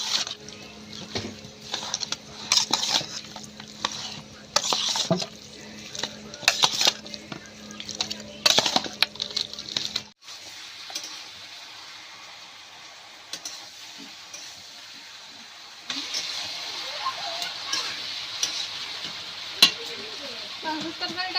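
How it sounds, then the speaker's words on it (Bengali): Fish curry sautéing in a pan, with a steady sizzle and intermittent clinks and scrapes of stirring in the first half, then a softer, quieter frying hiss that continues to the end. "মাছের তরকারিটা কষা হচ্ছে"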